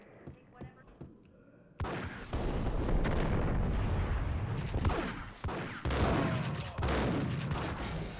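Gunfire in the video game Max Payne, a few scattered shots, then heavy rapid bursts of blasts rumbling loud and continuous, with a voice talking under it.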